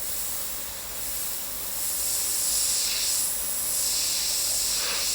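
An airbrush fogs opaque grey paint over a Senna F1 car illustration, a continuous soft airy hiss that swells and eases in gentle passes, with no voices over it.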